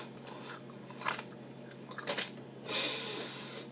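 Someone bites into a crunchy homemade Medifast soup chip, with several crisp crunching bursts followed by wetter chewing sounds, close to the mic and without talk.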